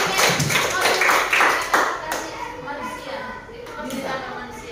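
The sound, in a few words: students clapping hands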